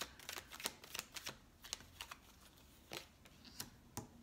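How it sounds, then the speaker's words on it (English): Tarot cards being shuffled and drawn: a quick irregular run of soft, crisp card snaps and flicks, close and fairly quiet, with no talking. "Let's just pull one more clarifying card."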